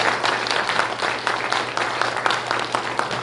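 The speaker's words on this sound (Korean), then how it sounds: "우리 하나님께 감사 박수 한번 올려드리겠습니다" A congregation applauds steadily during a Sunday worship service at a Full Gospel church, the clapping thick and sustained over a low electrical hum, with no voices on top.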